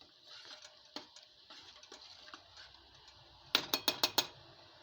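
A spoon stirs sauce in a bowl, with light scattered clinks and scrapes followed near the end by a quick run of five sharp, bright taps against the bowl.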